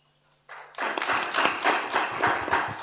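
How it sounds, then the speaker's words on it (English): Audience at a health awareness campaign event breaks into clapping after a brief quiet moment, a fairly close, loud burst of rhythmic hand claps that swells and holds steady, with no talking. "The clap is very loud, Dominic."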